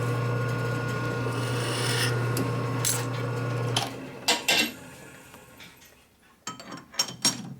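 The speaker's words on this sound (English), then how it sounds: "Deburr it. Deburring tool." Deburring tool scraping the cast-iron cylinder head of a 1981 Harley-Davidson XL Sportster 1000cc Ironhead, with a steady low hum underneath, then a series of sharp scrapes and metallic clicks, close up.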